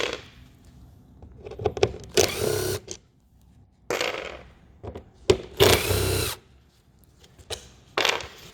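A power tool drills out the three T25 Torx screws holding the window motor inside a Ford Fiesta Mk5/Mk6 front door, in several loud whirring bursts separated by pauses, close up.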